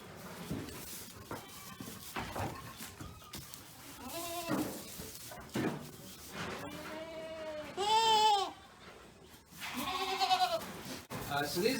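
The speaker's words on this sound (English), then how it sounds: "So these are some of our young goats that were babies in the spring." Young goats, born in the spring, bleat repeatedly on a farm in autumn, several wavering cries rising close by between stretches of talking.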